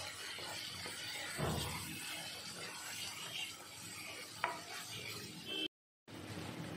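Crab and potato curry with spices is stirred in a sizzling pan of oil, a continuous close scraping and frying hiss with a brief clack and a short silent break near the end.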